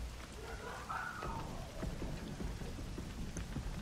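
Steady rain falls and splashes on the ground in the Dead by Daylight video game, a continuous even hiss of drops with a faint low rumble beneath, heard alone at moderate level.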